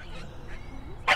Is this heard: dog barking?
yes